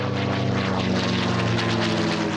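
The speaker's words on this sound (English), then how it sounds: "This aircraft behind me is a 1945 vintage." A 1945 North American P-51 Mustang propeller fighter passes close by on a photo pass, its loud, throbbing engine drone steady and strong throughout.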